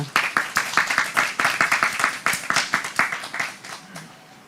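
Audience applause at a panel session of a Jeju MICE industry forum, a brisk burst of many hands clapping that gradually thins out and fades toward the end.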